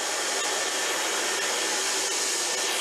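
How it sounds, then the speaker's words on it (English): Burr King belt grinder running at an adjusted speed, a loud, dense, continuous whooshing roar that holds steady throughout, with no voices. "When we turn it on and we want to change the speed, now it's getting a little louder"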